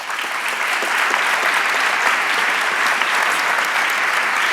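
Audience applause at a university evening lecture, dense sustained clapping from a full hall that holds steady throughout, with no voices over it.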